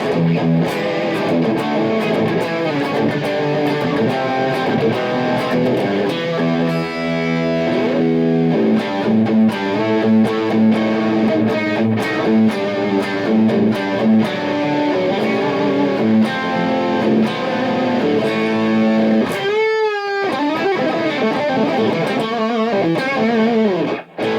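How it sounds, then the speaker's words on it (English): Heavily distorted electric guitar through an Aleks K Production Maple Leaf Royal Drive pedal cranked all the way up plays loud, saturated chords and riffs continuously, with a brief squealing slide near the end. "That's cranked all the way up. That's as much distortion as I would ever need."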